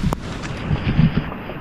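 Heavy rain near a river, a steady broad roar with rumbling wind buffeting the microphone, loud and continuous throughout without a clear break.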